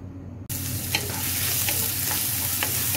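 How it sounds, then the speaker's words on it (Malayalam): Ginger and garlic drop into hot oil for fish chukka and burst into a loud, close, continuous sizzle after a brief quiet start, with occasional stirring scrapes. "ഇഞ്ചിയും വെളുത്തുള്ളി ഇട്ട ശേഷം ഒരു ചെറിയ ഗോൾഡൻ ബ്രൗൺ കളർ ആകുന്നിടം വരെ ഇതൊന്ന് വറുത്തെടുക്കാം"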